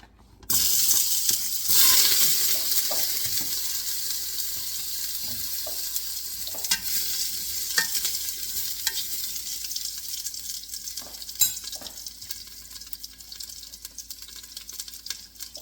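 Ginger sizzling and frying in a hot pan for chicken tinola, a steady loud crackle throughout with occasional scraping and stirring clatters, no talking.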